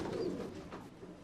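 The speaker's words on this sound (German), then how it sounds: "Renntauben lassen sich daher nur in der vermauerten Stadt unbehelligt züchten." Racing pigeons cooing in a crowded walled city, a soft low murmuring coo that carries on steadily at moderate volume over a faint background hum.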